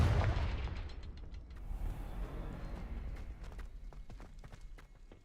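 Confringo blasting spell cast in the Hogwarts Legacy video game, a heavy booming blast up front that rumbles and fades, followed by a run of scattered crackling impacts.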